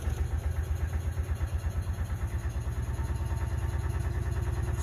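A small two-stroke engine cranks over fast without fuel, producing a rapid, even, pulsing churn that runs loud and unbroken throughout, with no voices.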